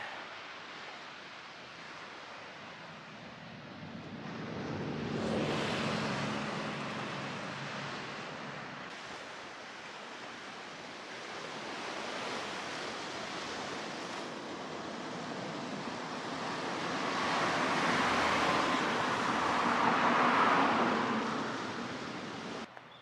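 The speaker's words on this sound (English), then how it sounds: "listen to the sounds of the waves" Ocean waves roll in steadily at Uno Beach in Japan, a continuous broad wash of surf that swells louder around the middle and again near the end, with some wind noise and no voices.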